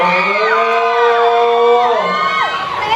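A large crowd screams and cheers loudly and continuously at a concert at Emquartier Water Garden, with high-pitched shrieks and whoops rising above a dense roar.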